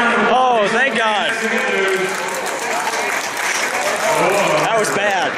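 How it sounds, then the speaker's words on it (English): Grandstand crowd at the 2014 Grand Prix of Indianapolis applauding after a standing-start crash, a loud continuous roar of clapping and cheering with excited voices shouting over it throughout. "Give him a round of applause."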